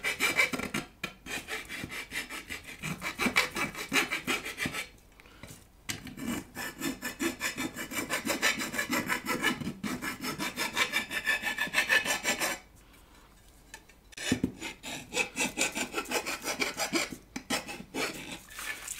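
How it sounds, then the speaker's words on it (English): Hand deburring of drilled holes in a metal amplifier chassis, rhythmic rasping file-like strokes, close and fairly quiet, with short pauses between bursts. "it does a very nice job removing the burrs"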